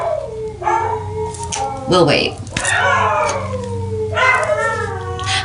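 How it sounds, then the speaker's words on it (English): Several dogs howl from downstairs in a house, rising and wavering howls repeating across the moment, fairly loud with a person talking over them. "as my wolves start howling downstairs"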